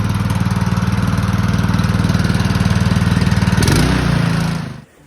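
A small outboard-type motor started on the first pull in cold, calm winter conditions runs at a steady throbbing idle, loud and close, then cuts out near the end.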